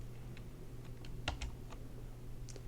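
Computer keys tap sparsely at close range, a handful of light clicks with one firmer press near the middle, over a quiet background hum.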